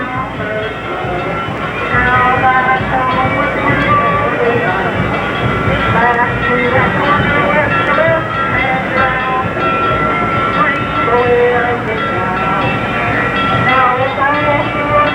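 Lone Star Railroad Company train float rolling along a 1987 bicentennial parade route in Cumberland, a steady rumbling rail-like clatter with crowd noise and announcer talk over it throughout.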